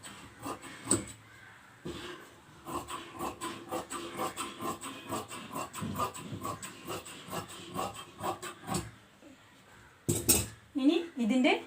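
Scissors cut fabric for an umbrella skirt in a series of close, crisp snips and rustles of cloth on a hard table. They pause briefly and then resume in louder bursts near the end.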